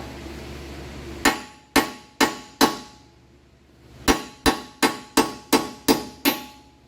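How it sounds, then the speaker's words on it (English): Sharp metallic ball peen hammer blows knocking out a wheel stud on a turbo Miata ring out close by: four strikes, a pause, then a steady run of seven more evenly spaced hits. "I just got like a little ball peen hammer."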